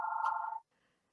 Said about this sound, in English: Apologize for the phone.